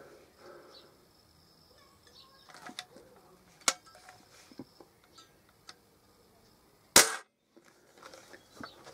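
A modified .60 Edgar Brothers spring air rifle fires one sharp, loud crack near the end, standing alone after a few quieter clicks and handling noises against faint outdoor background with distant birds.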